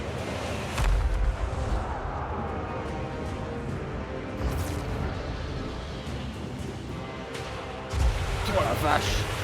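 Artillery fire booming through a battle in Total War Warhammer 3, with dense rumbling blasts and heavy low thuds, stronger bursts near the start and end, under someone talking over the game.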